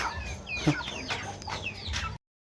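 Several chickens cluck and squawk nearby in short, overlapping bursts, then the sound cuts off abruptly.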